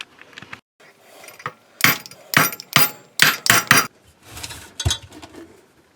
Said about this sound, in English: just put a screwdriver in there, give it a tap with a hammer